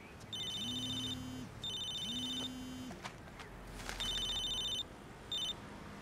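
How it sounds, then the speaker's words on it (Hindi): An electronic phone ringtone trills in repeated bursts with short pauses between them, clear and close, with faint background noise and no talking. "अरे तुम्हारा फोन बज रहा है।"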